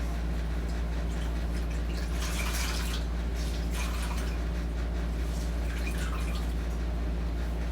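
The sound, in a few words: rinsing cloth in water during bed bath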